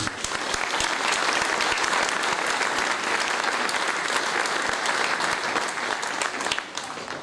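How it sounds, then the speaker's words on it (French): An audience at a mayor's medal ceremony in Tarnos, France, applauding steadily, dense clapping sustained for several seconds before tapering slightly at the end. "Je vous demande d'applaudir Alain Hutt."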